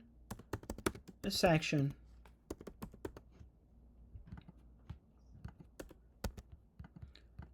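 Typing on a computer keyboard while coding a Flutter layout, rapid irregular clicky keystrokes close to the microphone, with a short spoken word briefly overlapping early on.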